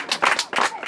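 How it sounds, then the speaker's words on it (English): Audience clapping for a couple on a stage game show, a burst of hand claps rising and falling in two swells over under a second, fairly close and lively. "Clap for them now."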